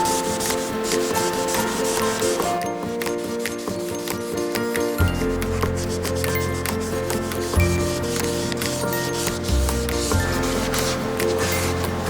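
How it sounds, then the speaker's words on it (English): A magic eraser scrubs scratch marks off a wooden surface in steady, continuous rubbing strokes for about twelve seconds, close up, with a steady tonal background running underneath. "for the scratch marks, I'm going to use some magic eraser"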